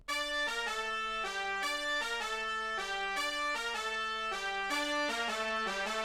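A bright, brassy trumpet-like synth melody plays a repeating pattern of a few notes over a steady trap beat, loud and upfront with no voices.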